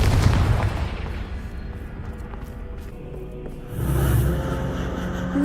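In the Hogwarts Legacy video game, a Confringo fire spell detonates with a deep boom, followed by rumbling debris and a second heavier blast near the end, loud and close with no talking.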